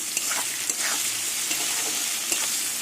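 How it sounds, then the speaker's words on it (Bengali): Onions frying to a reddish brown in a pan for a catla fish and eggplant curry: a steady, dense sizzle with a few soft clicks of stirring, close and without speech. "এবার পেঁয়াজটাও লাল লাল করে ভেজে নেব"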